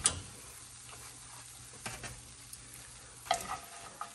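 Doughnuts frying in hot oil, a soft steady sizzle with faint crackle running throughout, broken by a few light clicks and knocks of a spoon near the pot, with no voices.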